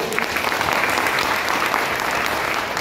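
Sustained, dense audience applause at a late-night poetry and speech gathering in Peth Vadgaon, Maharashtra, loud and even throughout with no talk over it.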